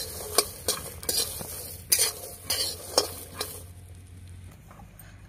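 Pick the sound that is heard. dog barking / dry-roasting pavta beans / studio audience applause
dry-roasting pavta beans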